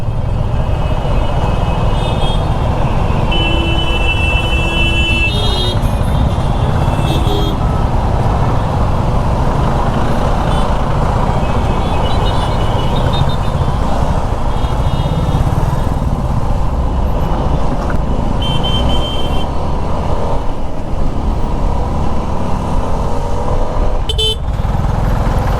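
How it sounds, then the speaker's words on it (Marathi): Dense road traffic jam heard from a Suzuki V-Strom SX 250 motorcycle, with a steady loud roar of engines, repeated car and truck horn honks scattered throughout, and continuous rumbling vehicles close by. "एवढी ट्रॅफिक का काय कळतच नाही. इतकं जाम आहे"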